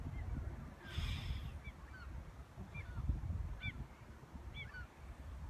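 Geese honk outdoors in Sweden, a few scattered short calls at a moderate distance over low wind rumble, with a brief hiss near the start.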